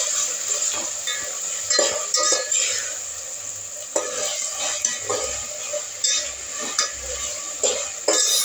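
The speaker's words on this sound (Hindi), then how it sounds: "अब अदरक लहसुन का पेस्ट डाल रही हूँ मैं खिचड़ी के लिए।" Ginger garlic paste fries with onions in a pot of oil for khichdi, giving a loud steady sizzle. A spoon stirs and scrapes against the metal pan with repeated clinks and knocks.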